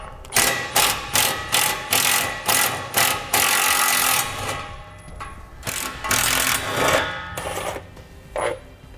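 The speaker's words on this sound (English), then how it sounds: "we're gonna need to remove two 13 millimeter bolts in order to do that" A ratchet backs out 13 mm bolts from the heat shield on a 2016 Chevrolet Silverado 2500, clicking in quick, rhythmic bursts close by, followed by a steadier stretch of ratcheting and metallic handling.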